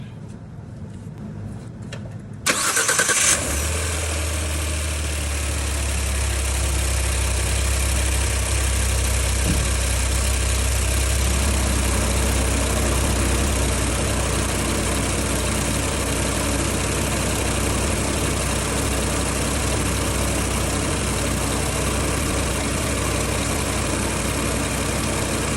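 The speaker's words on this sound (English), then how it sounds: "I'm about to crank up the engine so we can make sure everything looks good" A 2017 Ford Expedition's 3.5L EcoBoost turbocharged engine cranks and catches after a couple of quiet seconds, then settles into a steady, close, continuous idle that holds to the end with no talking.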